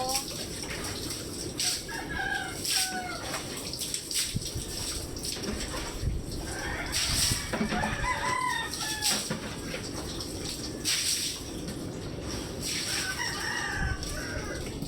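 Chickens cluck and a rooster crows in a backyard setting where a hen is being fed, the calls repeating over steady background noise with some water sounds and faint voices.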